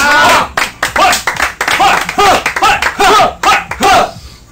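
A few people clapping together on a comedy improv stream, sharp close hand claps in irregular bursts with voices talking and calling out over them.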